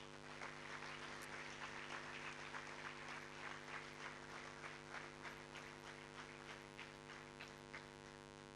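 An audience at a seminar claps steadily in welcome for several seconds, a dense patter of hands heard at moderate distance over a strong constant electrical hum, tapering off near the end.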